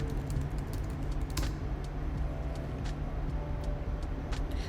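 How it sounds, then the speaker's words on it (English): Quiet keystrokes on a computer keyboard as a password is typed: a light, irregular run of clicks over a steady background hum, with no talk. "Type in your password."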